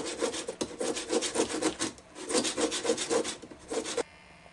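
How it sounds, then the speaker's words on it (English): A surform rasp draws across the edge of a DDR metal dance pad in repeated scraping strokes, a steady rhythmic rasping that runs close and fairly loud, pauses briefly midway, then resumes before stopping abruptly. "to trim this a small amount, I'm going to use the surf form and go across"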